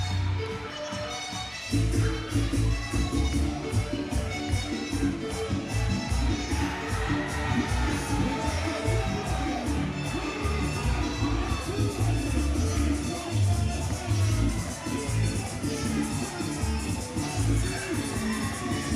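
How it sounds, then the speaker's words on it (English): At Coastal Championship Wrestling's Conquer Kissimmee 15 event, a wrestling crowd suddenly swells into loud, sustained cheering and roaring, with claps and whistles across the whole stretch after a brief quieter opening. "And there it is, the crowd comes to their feet."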